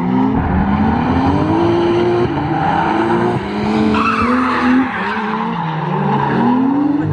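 An RB25-engined car drifting at the Ebisu Spring Matsuri 2019 event, with loud sustained tire squeal over a revving, wavering engine drone, close and continuous for the whole stretch.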